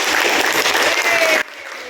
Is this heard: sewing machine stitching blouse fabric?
no